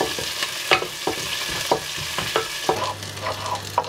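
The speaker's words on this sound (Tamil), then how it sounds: "இதை கொஞ்சம் நேரம் வதங்கட்டும்" Onion sautéing in a pan for chicken korma: a close, steady frying sizzle with regular stirring strokes and scrapes every half second or so, no voices.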